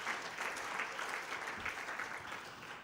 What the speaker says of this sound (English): Can we clap for that gentleman once again?